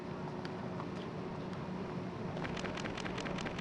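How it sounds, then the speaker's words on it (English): Steady rain hissing in the train driving video game Densha de Go! 2, a continuous soft wash with faint droplet patter, heard alone without talk. "And it's raining, so we get a gold star, but look at our reward, rain."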